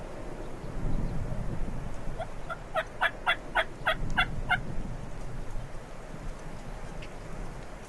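A wild turkey gobbler in Texas gobbles once, a rapid rattling burst of notes, at moderate distance over wind noise and a low rumble, with no talk.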